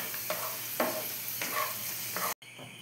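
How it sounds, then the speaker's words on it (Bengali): Raisins and cashews frying in oil for polao, a soft continuous sizzle punctuated by four scraping strokes of a ladle, close up, cut off briefly near the end. "কিশমিশ কাজুগুলো ভেজে তুলে নিলাম।"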